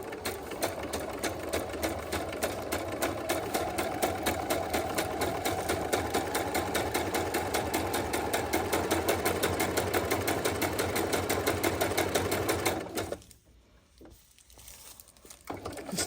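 A sewing machine zigzag-stitches through layered journal cover material in a fast, even run of mechanical needle clatter lasting about thirteen seconds, then halts, leaving quiet room sound and light handling.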